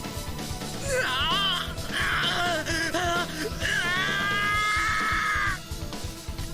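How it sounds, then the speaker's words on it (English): Shrill screams from the Higurashi visual novel as a car spins off the shoulder and down a forest slope, several rising and wavering cries over game music and crashing effects. "Oh, that was a pathetic scream for me."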